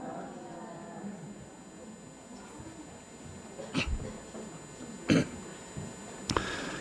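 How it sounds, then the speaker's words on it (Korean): Members of a church congregation cough during a sermon: three short, separate coughs come at spaced intervals, fairly faint and distant against a quiet room. "기침하는 분들이 몇 분이 있어서 동병상련입니다"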